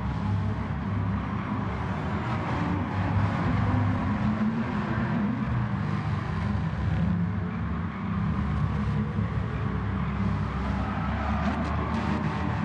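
A McLaren race car engine in Gran Turismo Sport drones steadily and loudly throughout, a sustained powerful roar with no break and no talking over it.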